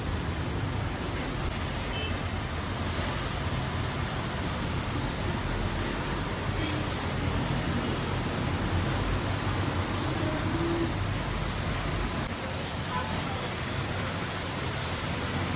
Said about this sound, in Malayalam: വീണ്ടും മഴ പെയ്യാൻ തുടങ്ങിയിട്ടുണ്ട്.